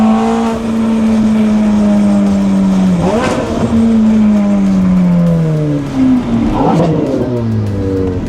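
A car engine revving hard and climbing in pitch, dropping briefly between gear shifts before rising again, loud and close.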